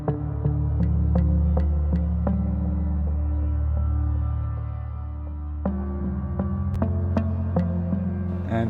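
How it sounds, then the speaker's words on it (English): A guitar melody an octave lower on a different guitar instrument plucks slow single notes over a sustained, droning bass progression in an ambient breathwork piece, soft and steady with no voices. "this melody is an octave lower and with a different guitar instrument"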